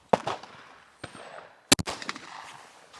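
A shotgun fires at a sporting clay target outdoors, a sharp nearby blast followed by a second loud report, with faint movement noises and brief quieter sounds between.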